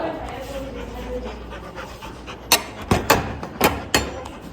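A dog pants softly at first, then gives a series of sharp, loud barks in quick bursts close by.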